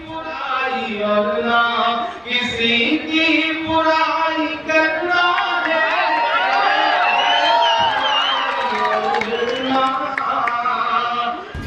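A large crowd at an election rally in Patna Sahib, Bihar, cheers and whoops loudly as the poet Imran Pratapgarhi reaches the stage, with many overlapping shouting voices and sustained excited roars throughout.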